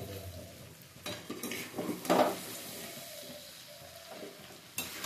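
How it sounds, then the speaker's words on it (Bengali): Cooked rice for fried rice is stirred in a pan, producing scattered spoon scrapes and a brief clink over a low sizzle, close and moderately quiet. "বন্ধুরা এবার ভাতটাকে এটার সঙ্গে একটু ভালো করে নাড়িয়ে নেবো যাতে সবটা পুরোটা মিশে যায় সুন্দরভাবে"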